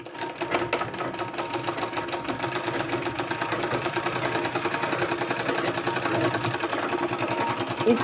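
Sewing machine stitching a decorative sleeve, a continuous fast motor hum with a dense rhythmic needle chatter running steadily throughout, close and fairly loud with no talking.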